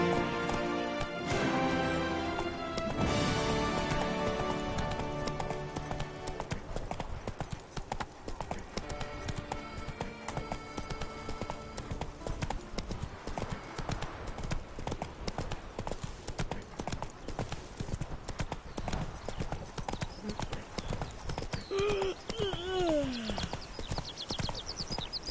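A horse galloping in The Witcher 3, rapid rhythmic hoofbeats pounding steadily throughout under a game music score, with brief speech near the end.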